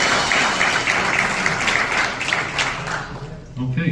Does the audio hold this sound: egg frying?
no